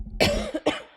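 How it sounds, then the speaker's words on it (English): A person coughs twice in quick succession, close to the mic and loud, in a quiet indoor room with no other sound. "And hopefully not coughing in the mic."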